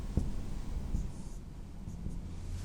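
Chalk or marker scratches faintly on a board as chemistry formulas are written out in a lecture, producing a few soft taps and strokes over a low room hum, close but quiet.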